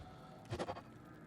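A cow monster on the Cow Level in Diablo 2 Resurrected gives one short, bleating, moo-like cry over a quiet background. No voices are heard.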